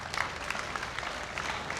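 An outdoor crowd at a street dance performance in Litija applauds in a brisk, dense patter of hand claps, steady and moderately distant throughout.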